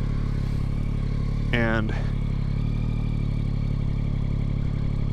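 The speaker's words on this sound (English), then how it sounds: "So we got her warmed up here" A warmed-up 2022 Yamaha XSR900 motorcycle idles steadily up close, a constant mid-pitched engine drone, with a brief word spoken over it.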